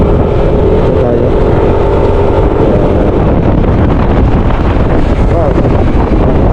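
Strong wind roars and buffets the microphone during a drive toward Manaoag, a loud, dense, continuous rush with road and engine noise mixed in.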